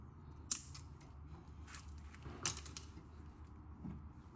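Plastic zip ties are snipped off during front suspension work on a Nissan 240SX, giving two crisp, isolated cutting clicks about two seconds apart against a quiet garage background.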